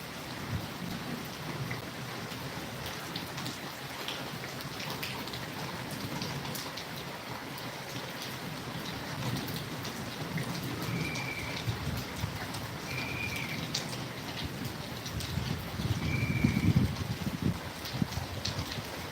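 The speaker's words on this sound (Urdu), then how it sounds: "جی آپ دیکھ سکتے ہیں بارش اندر آنا شروع ہو چکی ہے۔" Heavy monsoon rain pours down steadily and loud, a dense continuous roar with thunder rumbling low in the background and a stronger swell of rain and rumble near the end; no one speaks.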